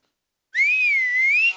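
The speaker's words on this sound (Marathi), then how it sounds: "बाई खरी शिट्टी वाजवते" A woman on a comedy stage whistles one clear, sustained note that wavers slightly in pitch, loud and close, starting abruptly after silence and lasting about a second.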